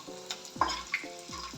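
Chillies and garlic roast in oil in a pan for makhana chivda, with a soft sizzle under a few quick scraping stirs and light clicks of a spoon against the pan.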